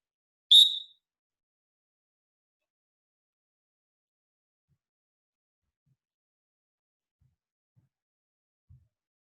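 A single short, sharp whistle blast at the start, followed by near silence with a couple of faint soft knocks.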